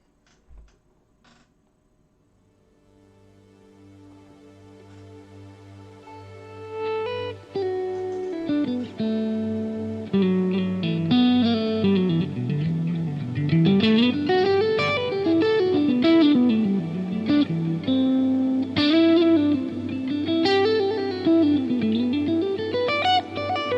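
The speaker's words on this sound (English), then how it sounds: "So this synth is going into an EQ delay and also the particle reverb" A synth pad swells in gradually through an EQ delay and a particle reverb on an HX Stomp, its tones gliding and repeating through echoing delays and a wide, shimmering reverb tail.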